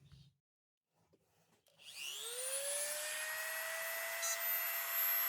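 A power tool spins up on a Schrade Old Timer Trapper pocketknife being rebuilt, grinding and drilling the old metal with a rising whine that settles into a steady, bright, continuous grind after a few quiet knocks.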